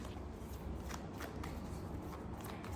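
Tarot cards being shuffled, a steady soft riffling and flapping of card stock running continuously and close, fairly quiet, with no voices over it.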